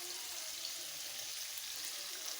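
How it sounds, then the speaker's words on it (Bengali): Green banana pieces fry in oil with a faint, even sizzle that holds steady throughout, fairly quiet and without other sounds. "কাঁচকলাটাও ভেজে নিচ্ছি।"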